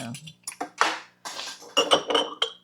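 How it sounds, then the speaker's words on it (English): Dirty dishes and cutlery clatter into a home kitchen sink in a quick series of close clinks and clanks, with brief talk in between. "Put these over here in my sink with my dirty dishes."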